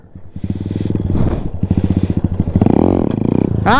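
A motorcycle engine during wheelie practice, revving hard in rapid pulsing bursts that rise and fall, with clattering thumps as the throttle is eased and the brake is applied, loud and close.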